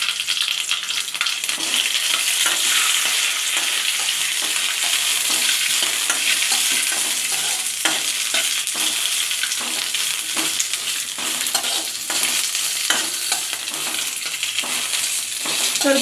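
Green chillies, black pepper and doddapatre leaves frying in hot oil, a loud continuous sizzle with scraping stir strokes throughout, close up and without talk.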